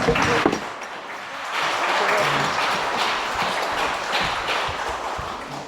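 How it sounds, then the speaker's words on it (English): Sustained applause from an audience at a gifting presentation honoring a professor, a dense, even wash of many hands clapping at moderate loudness that continues for several seconds with a few louder individual claps. "Let's give her a round of applause."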